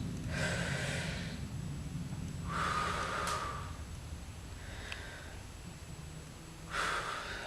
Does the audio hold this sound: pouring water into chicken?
no